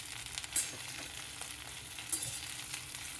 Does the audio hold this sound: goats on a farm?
no